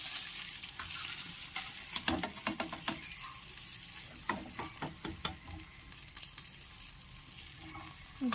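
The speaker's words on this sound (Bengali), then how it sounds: "বাকি সব খাজাগুলো আমি ঠিক এরকমভাবেই ভেজে নেব" Khaja pastries fry in hot oil with a steady crackling sizzle, punctuated by irregular bursts of popping and light clatter throughout.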